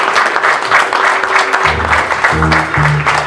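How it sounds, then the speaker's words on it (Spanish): Party guests applaud at a birthday celebration with a youth mariachi band, steady clapping filling the room while low sustained musical tones, likely the band's instruments, come in partway through. "¿Un aplauso? Claro que sí"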